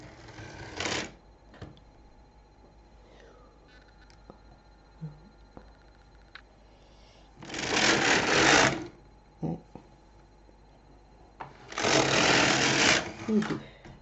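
A Silver Reed LK 150 knitting machine knitting two rows of blue yarn, with the carriage making two loud rattling sweeps roughly four seconds apart, preceded by a brief one and with light clicks and handling noises between them.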